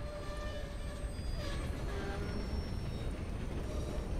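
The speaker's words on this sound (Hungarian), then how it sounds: "Elindult a vonat, Dick." Train in Red Dead Redemption 2 pulling away, a steady rolling rumble of wagons on the rails with faint metallic squeals and tones above it.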